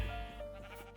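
A sheep bleats in a video game, one short wavering bleat heard close and clear, fading out with no talking over it.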